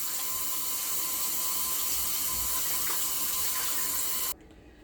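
Tap water runs steadily into a sink while raw meat is washed under it, a continuous close hiss that cuts off abruptly near the end.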